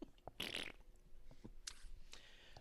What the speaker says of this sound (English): We have a new command that says, McInfart go